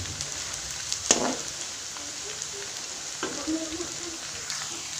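Tempeh fries in hot oil with a steady, close hiss and crackle, a few louder pops and bubbling bursts breaking through; no talking is heard.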